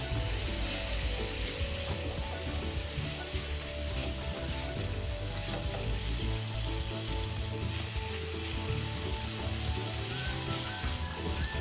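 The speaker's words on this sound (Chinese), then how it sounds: "再将鸡肉丁倒入，一起翻炒" Diced chicken stir-fried in a pan with black pepper, a steady loud sizzle with faint scraping of stirring running throughout.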